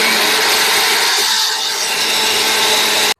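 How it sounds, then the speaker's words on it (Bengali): A kitchen mixer grinder whirs loudly and continuously, grinding spices with chaat masala for aam panna, a steady harsh drone that cuts off abruptly at the end. "এটা আমি ভালো করে মিক্সিতে গুঁড়ো করে নিই মেশিনে আমি বসিয়ে দিয়েছি"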